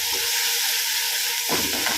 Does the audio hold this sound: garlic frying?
yes